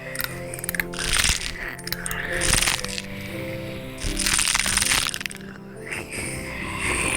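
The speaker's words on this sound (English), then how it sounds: "You'll need a blunt instrument like the handle of a spoon to wedge between the teeth and lever open the jaw" A nut's hard shell is levered open with a blunt spoon handle, giving several loud crunching cracks spaced a second or so apart over steady background music.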